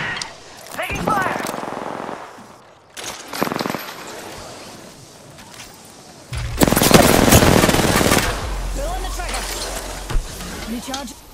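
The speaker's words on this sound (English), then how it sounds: "I'm getting shot at." Gunfire in the video game Apex Legends: bursts of rapid weapon fire, with one long loud fusillade in the middle and scattered shots around it, mixed with game effects.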